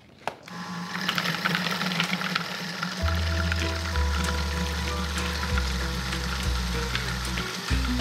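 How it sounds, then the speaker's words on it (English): A food processor whizzes pesto ingredients, with olive oil added while it mixes: after a quiet start, a loud, buzzing motor hum kicks in and holds steady, shifting in pitch a few times as it runs. "Now we're going to whiz this into a pesto and finally add some olive oil as it's mixing"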